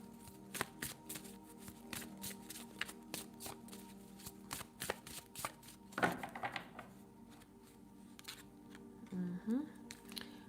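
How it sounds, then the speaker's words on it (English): Oracle cards being reshuffled during a live tarot-style reading, giving a run of quick papery riffles and taps, soft and close, with a brief louder burst midway and faint voices in the background. "Let me reshuffle."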